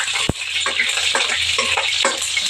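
Food is stirred and fried in a pan on a home stove, with a short sharp utensil knock against the pan at the start, then soft scraping and a steady sizzle, close and fairly quiet.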